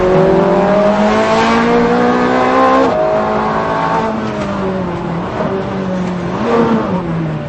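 A Ferrari F430 Scuderia engine revs hard and accelerates on track, loud and close, pitch climbing through gears with quick shifts and dips between pulls.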